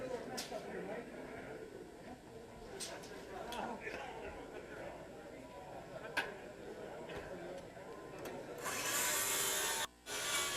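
A saw cuts framing lumber at a timed house-framing builders competition. Scattered knocks and rubbing build to a loud, sustained saw burst near the end, with voices shouting in the background.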